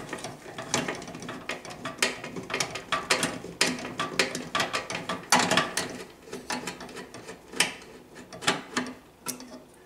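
A screw is being unscrewed while a microwave oven is taken apart, giving a rapid series of close, sharp ratcheting clicks and scrapes that continue irregularly for several seconds with no talking.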